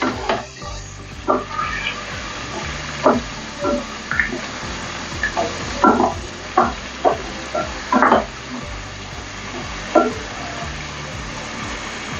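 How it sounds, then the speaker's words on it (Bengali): A paste of cumin, ginger and onion fries in oil, giving a low bubbling hiss broken by sharp spits and pops. The pops come irregularly about once a second, close and fairly loud. "একটু ভেজে নেব।"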